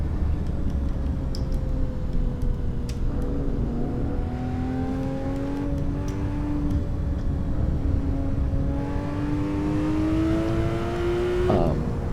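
A race car on a track makes a loud, close engine note that climbs and sags as the driver works the throttle, continuous the whole way with no talk.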